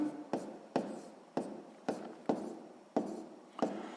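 Pen strokes on a notebook page during a sixth-grade maths exercise: eight short, crisp scratches in an even rhythm, close and quiet, with nothing else heard.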